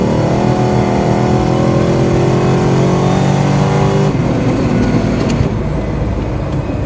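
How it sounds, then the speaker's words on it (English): Cammed LT1 Camaro accelerating hard in second gear: a loud, close, sustained engine roar rising steadily in pitch, then easing off near the end with a shift or lift, no voices. "All right, here we go, second gear."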